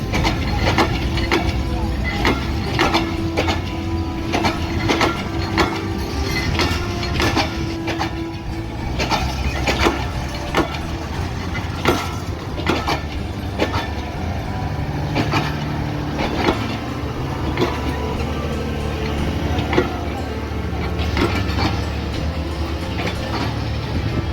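Mechanical clanking and ratcheting from the Titumir Express passenger train standing at a station platform, with a steady low rumble and repeated metallic clicks throughout.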